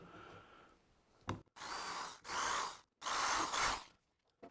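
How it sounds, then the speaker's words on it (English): Power drill pre-drilling pilot holes in wood for screws during a pond repair: three loud, sustained whirring bursts of about a second each, separated by short pauses, after a quiet start. "So we're gonna go ahead and do it now by pre-drilling."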